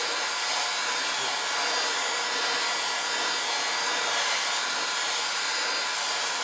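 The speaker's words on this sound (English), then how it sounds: "So we're going to get it heated up. And always keep your gun moving so that you can evenly distribute the heat." A heat gun blows steadily while heating plastic during a grow tower build, giving a continuous loud airy hiss with no breaks and no talking.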